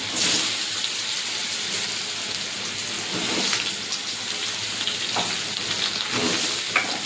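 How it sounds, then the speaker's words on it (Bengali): Boiled taro pieces fried in a pan with cumin tempering, a loud dense sizzle like rain on a surface, with occasional stirring scrapes throughout. "সিদ্ধ করে রাখা কচুগুলো ভেজে নেব"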